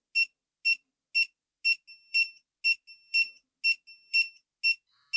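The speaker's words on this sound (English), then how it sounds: "if we go closer and closer and closer, it'll go through the beeping again" A series of sharp electronic beeps from a dog training collar in a steady rhythm, about ten pulses, some doubled with a longer tone, clear and close with silence between.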